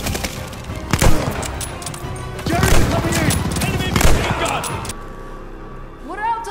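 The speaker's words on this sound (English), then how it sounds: "Enemy machine gun!" Enemy machine gun fire in Call of Duty Vanguard, loud rapid bursts with sharp cracks and splintering impacts, broken up by excited shouting over the gunfire.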